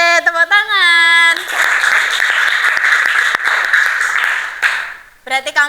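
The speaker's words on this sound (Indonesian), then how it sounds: "Oke, tepuk tangan." Students clapping hands together in a classroom lesson, a loud sustained burst of rapid overlapping claps lasting several seconds, with a voice speaking just before and again right after.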